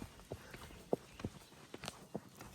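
A horse walks along a trail, its hooves landing in a few faint, sparse clip-clop steps on a quiet outdoor path.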